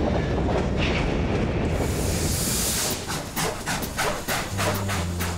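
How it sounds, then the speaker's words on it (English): Freight rail cars roll along the tracks while riding the rails, a loud steady rumble with a rhythmic clickety-clack of wheels over rail joints growing more distinct in the second half, no talk. "There is the rhythmic clickety-clack from the tracks"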